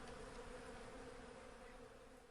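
A bee buzzes in a steady, continuous hum, close and unbroken throughout.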